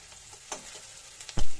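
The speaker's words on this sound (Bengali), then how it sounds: "নেড়ে চেড়ে কিছুক্ষণ টাইম ধরে আমি রসুন আর পেঁয়াজটাকে ভেজে নিয়েছি" Garlic and onion sizzle steadily as they fry in a hot pan, with a few scraping stirs and a louder clatter near the end.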